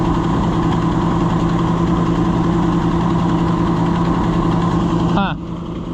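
A 1969 Ford F600 truck engine, its carburetor in need of work, fast idles in a loud, steady, close drone that drops off abruptly near the end.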